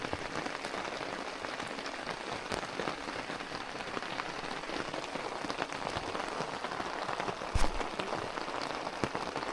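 Rain drums on the plastic windows of an Otter Resort tent, a dense, continuous patter of close drops with an occasional louder splat.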